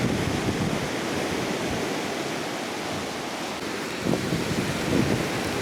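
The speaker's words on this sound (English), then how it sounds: "And so this is Koh Chang beach." Surf washes steadily along Koh Chang beach in Thailand, a broad continuous hiss of waves with some wind rush over the microphone and small swells near the end, with no voices.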